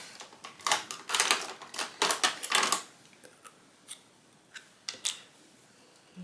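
Paper being cut for a handmade craft card, a run of quick crisp snips and rustles in the first few seconds, then a few isolated close clicks and snaps with quiet pauses between.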